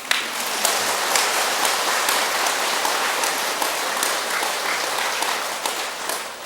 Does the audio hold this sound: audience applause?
yes